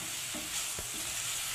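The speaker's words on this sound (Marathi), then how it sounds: "कांद्यानंतर ते घालून घ्यायचं आहे वाटण, थोडंसं परतवून घ्यायचं आहे 1 मिनिटभर" Ground masala paste sautéing with onions in a pan for a spicy chicken gravy gives a soft, steady sizzle, broken by a few quiet scrapes and stirs.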